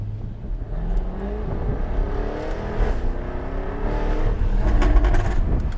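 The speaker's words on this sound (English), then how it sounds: "it just cracks and snaps and pops like insanity" Jaguar F-Type R engine revving at partial throttle, a steady throaty drone rising and falling in pitch, with several sharp exhaust cracks and pops toward the end, heard from inside the car with the windows up.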